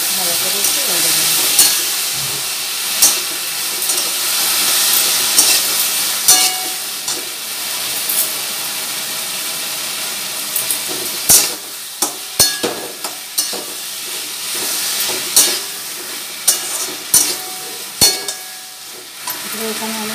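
Taro pieces frying in a pan, a loud close sizzle that steadies at first, then gets broken up by clattering stirs and utensil knocks against the pan.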